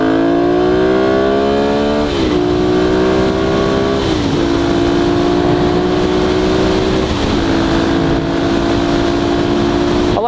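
A motorcycle revs and accelerates hard through several gear changes, the engine pitch climbing and dropping at each shift, loud and close throughout with wind roar.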